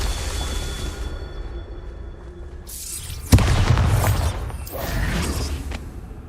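The Bombarda explosion spell in Hogwarts Legacy, a sudden sharp blast with a deep booming rumble that trails off, preceded by a whooshing rise and followed by debris-like rustle, no talk.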